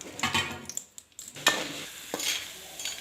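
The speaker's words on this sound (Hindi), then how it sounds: "अब हम लो फ्लेम पे गूंद कतीरा को अच्छे से फ्राई कर लेंगे।" Gond katira fries in hot desi ghee in a pan over a low flame, giving a soft steady sizzle broken by scraping stirs and a few sharp utensil clicks against the pan, close and alone.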